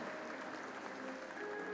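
A crowd in a Brazilian Air Force Day ceremonial session applauds the families of air force aviators, a steady, even wash of clapping that holds for the whole stretch, fairly distant and moderately loud.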